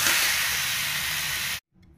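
Ash gourd pieces tipped into hot oil with cumin seeds and chillies give a loud, steady hissing sizzle for about a second and a half before it cuts off abruptly.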